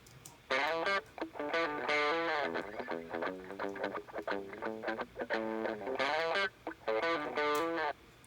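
Distorted electric guitar plays alone, a run of choppy, rhythmic chords and riffs with brief gaps, up close and fairly quiet.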